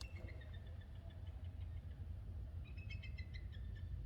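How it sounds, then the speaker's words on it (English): Faint, high chirping eagle calls in short repeated bursts, heard in the distance in Maine over a low, constant rumble like an idling engine. "if you hear that chirping, that's an eagle."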